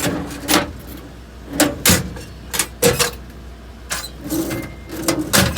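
Heavy-duty American Eagle drawer bins slide out of the passenger-side body on a Ford F-550 4x4 V10 utility truck with a Reading body, making a series of sharp metallic clunks and rattling slides spaced across the stretch, close by with no talk.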